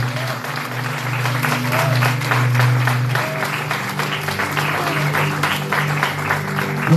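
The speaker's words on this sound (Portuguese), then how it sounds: "aplauda ao Senhor nessa noite" Sustained applause from a large church congregation, steady and fairly loud, with a low musical drone underneath and a few faint voices.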